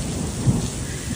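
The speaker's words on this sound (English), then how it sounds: "the storm dumped 26 millimeters of rain in an hour" Heavy thunderstorm rain pours down in a dense, continuous roar with a low rumble of thunder underneath, close and loud throughout.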